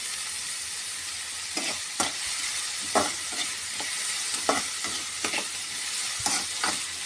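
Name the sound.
dry fish being sautéed and stirred with salt in a pan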